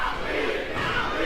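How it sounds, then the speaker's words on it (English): A wrestling crowd at an IHW show chants at the wrestler Greaser, a loud, massed roar of voices filling the arena for a brief moment. "the crowd is just agitating Greaser with the "we" chants"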